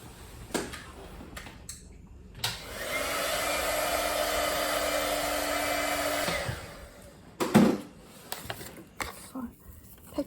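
An embossing heat tool blows a steady whirring hum for about four seconds while melting glue on a handmade card, bracketed by tapping and handling clicks, with a voice speaking faintly before and after.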